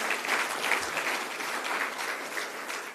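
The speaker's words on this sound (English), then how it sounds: "I think that's worth a round of applause" Steady applause from an audience at a public speech event in Cairns, a continuous even patter of many hands clapping at moderate loudness throughout.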